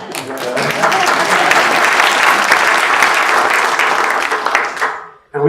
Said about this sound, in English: thank you for that clap